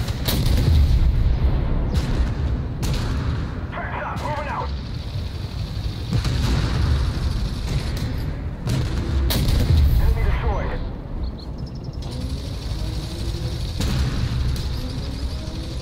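Tank guns boom in Armored Warfare, several heavy shots spaced across the stretch amid engine rumble and battle noise.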